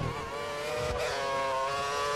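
An F1 race car accelerating in a modded F1 2014 game, a high, steady engine whine rising in pitch, close and continuous with no talk.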